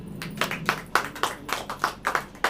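Congregation at a Hindi-language Christian church service clapping in a steady, rhythmic beat, each clap distinct and moderately close, with no talk over it.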